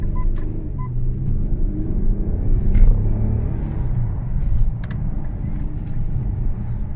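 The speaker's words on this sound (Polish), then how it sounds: "Pokażemy teraz Państwu przyspieszenie." An Infiniti Q70 3.5 hybrid V6 running on LPG accelerates with a steady low engine rumble that swells and eases slightly, plus faint scrapes and clicks, and no voices.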